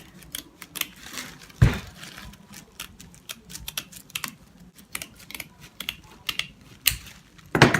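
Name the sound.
cutting a hat brim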